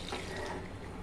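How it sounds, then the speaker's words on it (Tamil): Liquid poured into a pot of sambar as it boils, a steady watery splashing and trickling that holds for about a second without a break. "இதையும் ஊற்றி சேர்ந்து கொதிக்கிட்டோம்"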